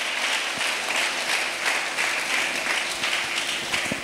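A church congregation applauds in a steady, dense wash of clapping that holds at an even level throughout.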